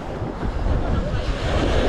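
Steady wash of sea waves breaking on the beach at Playa 88 in Playa del Carmen, a loud, continuous surf roar with wind buffeting the microphone.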